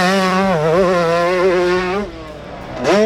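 A 2024 Yamaha YZ125 two-stroke dirt bike screams loud and close as it is ridden hard. The revs rise and fall, ease off briefly, then climb sharply again at the end.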